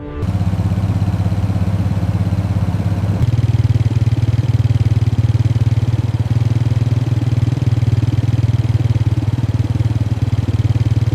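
A motorcycle engine idles steadily and close by, its low, even rumble running the whole time with a slight rise in level partway through; there is no talk.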